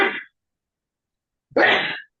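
A short breathy burst is followed after a second of silence by a louder, forceful sneeze up close.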